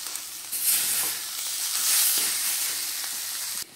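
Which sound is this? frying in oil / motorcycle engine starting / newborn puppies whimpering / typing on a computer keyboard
frying in oil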